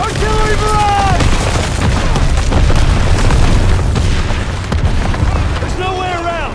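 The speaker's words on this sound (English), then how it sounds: "Get down! Artillery barrage!" Artillery barrage in Call of Duty WWII: loud, continuous booming explosions roll one into another with a dense low rumble, while voices shout at the start and end.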